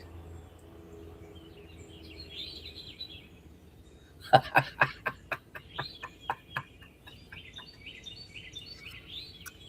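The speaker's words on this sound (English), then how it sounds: "people still get to hear the birds" Morning birdsong with high chirps and warbles, broken midway by a rapid run of loud, punchy rooster or chicken calls that slows and fades before the birds carry on.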